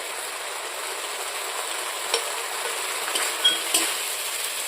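Spices and ginger frying gently in a pan, a steady hiss of sizzling oil with a few faint spoon scrapes and taps over it.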